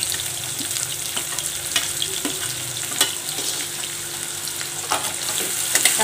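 Chopped onions and cumin seeds sizzling in a hot pan, a steady close crackle with occasional stirring scrapes and no voices.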